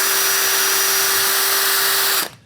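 A 1/8 inch bit drills into a 1/2 inch plywood midsection, the power drill whining at a steady high pitch at close range before stopping abruptly near the end.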